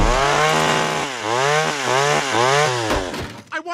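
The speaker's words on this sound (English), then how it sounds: "The Griffin family appears on their familiar sofa when suddenly Peter returns with a chainsaw." A chainsaw in a Family Guy cartoon revs loudly and continuously, its engine pitch rising and falling in several surging cycles before stopping near the end.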